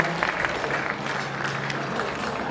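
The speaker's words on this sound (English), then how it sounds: "Let us give Dick a big round of applause" An audience at the 76th MAP inaugural ceremony claps steadily in a hall, a dense, even round of applause filling the whole moment with no speech over it.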